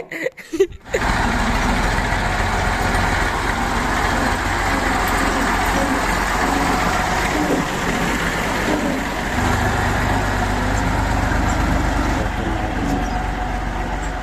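A tractor engine driving through a village, a loud continuous diesel rumble with rattling after a few brief knocks at the start, steady and close throughout.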